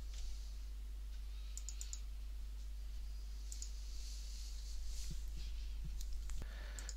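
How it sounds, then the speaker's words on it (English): Sparse, quiet mouse clicks on a computer, a few single and paired taps spread across the stretch over a steady low hum, with no talking. "just click on the download bit there"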